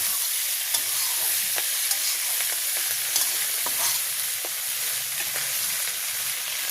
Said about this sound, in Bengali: মাছটা দিয়ে একটু কষাইয়ে তারপরে দেবো জল